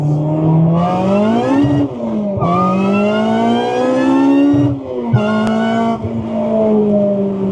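A 2000 Acura Integra on a test drive, its engine revving hard and loud through rising gear pulls with brief dips between shifts, a sustained close-up drone from inside the car.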